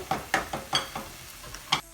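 Garlic, onion and tomato stirred and frying in grapeseed oil in a pan, with repeated scraping stir strokes in a steady rhythm over a soft sizzle, close by and alone.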